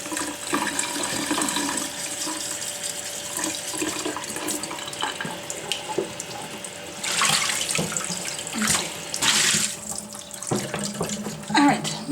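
A tap runs while a heavy turkey is rinsed in a sink, a steady close stream of water with louder splashing surges as the bird is moved, and a voice speaks intermittently over it.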